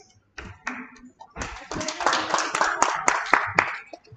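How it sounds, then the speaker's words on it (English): Applause from an audience welcoming a youth innovation challenge participant, scattered claps building into a steady, moderately loud patter with a voice speaking over it. "A round of applause for her, please."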